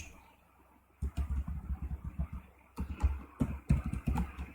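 Text typed on a computer keyboard, a string of soft key taps in two short bursts over a low steady background hum, with no talking.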